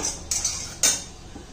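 A spoon stirs a milk and cream mixture in a metal pan for rava barfi, giving two or three sharp, close metallic clinks and scrapes with no talking.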